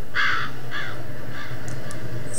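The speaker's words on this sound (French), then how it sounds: "Foutu corbeau, t'as failli me faire peur." A crow caws three times in the video game F.E.A.R., loud and close at first, then fading, over a low steady game ambience with no talk.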